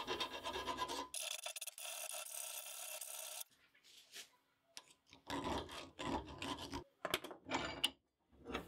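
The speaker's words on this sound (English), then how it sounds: "I am going to grind in the cone." A metal cone being ground into the body of a handmade medieval-style beer tap, with long rasping, grinding strokes in bursts separated by brief pauses, close and fairly quiet.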